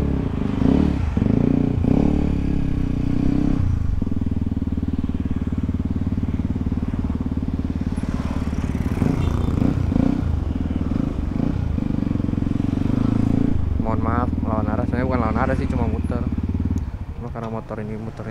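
A Yamaha WR motorcycle hums steadily while riding in traffic, a constant engine drone with wind noise that dips near the end, under a rider's ongoing talk.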